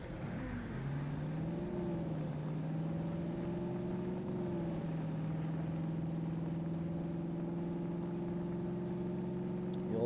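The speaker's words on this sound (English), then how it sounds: "Now I'm gonna do you the engine sound and show you what it sounds like driving around" A new SUV car engine in the Fortnite video game hums as it drives around, rising through a rev at first and then droning at a steady, moderate pitch, fairly quiet with no talk.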